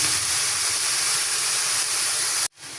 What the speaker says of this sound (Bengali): সেমাইটা ভাজার পরে এখানে আমি হাফ কাপের মতো পানি দিয়ে দিলাম